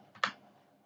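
A single key press on a computer keyboard gives a faint soft tap followed by a sharper click, close and isolated in a quiet room.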